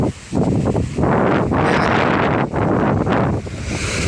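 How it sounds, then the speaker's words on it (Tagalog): Strong gusting wind buffets the microphone on a rainy coast, a loud, continuous roar with surging rumbles and brief dips, with no voices over it. "napakalakas ng hangin dito"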